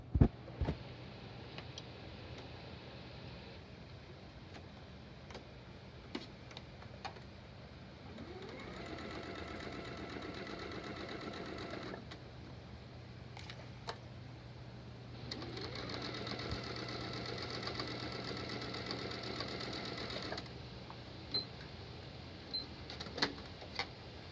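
Sewing machine stitching a fabric triangle, two steady runs of rapid mechanical stitching lasting several seconds each, separated by quiet pauses with occasional small clicks and handling sounds.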